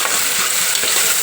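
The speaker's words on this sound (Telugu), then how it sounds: "ఇప్పుడు ఉల్లిపాయ వేగుతున్నప్పుడు" Chopped onion sizzles and fries in a pot while being stirred, a steady close hiss with faint scraping, preparing a goat leg soup.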